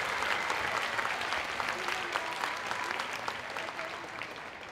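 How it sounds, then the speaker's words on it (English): Steady, dense applause from a school orchestra festival audience, greeting a seventh grade orchestra. The clapping stays fairly even and moderately loud throughout, slowly easing toward the end. "Everyone, give a round of applause for"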